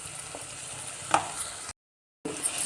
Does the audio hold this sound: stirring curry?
yes